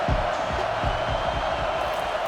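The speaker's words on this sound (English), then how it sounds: "Decibels rising as the crowd gets behind this defense on 3rd down." A college football stadium crowd roars behind the defense on third down in a Western Michigan versus Texas A&M game, a loud, steady wash of cheering with no break.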